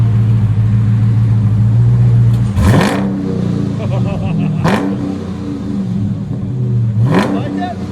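A car with Dynomax race bullet mufflers and 5-inch exhaust tips idles with a deep, loud rumble close by, then barks through three sharp revs spaced a couple of seconds apart.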